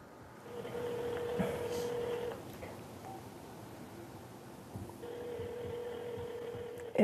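A telephone rings in two separate bursts of a steady electronic tone, the first lasting about two seconds and the second starting near five seconds, over a low room hum with no voices.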